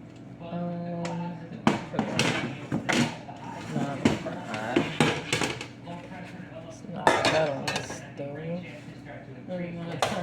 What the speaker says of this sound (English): And now it's just time to put it on the stove.